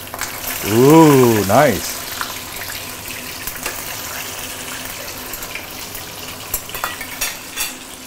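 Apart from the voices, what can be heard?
kampung fish being flipped while frying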